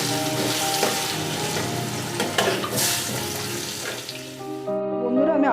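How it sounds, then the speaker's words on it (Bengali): Potatoes fry lightly in oil for Bengali bhoger khichuri, giving a steady close sizzle with some clatter and stirring. Near the end the sizzle drops away into a brief ringing metallic tone. "আলুগুলো আমি হালকা ফ্রাই করে তুলে নেব।"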